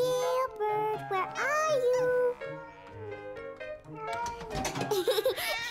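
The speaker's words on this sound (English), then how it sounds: "Silly cat." Cartoon cat meowing in a children's animated holiday show, several short mewing calls over background music with a voice speaking between them.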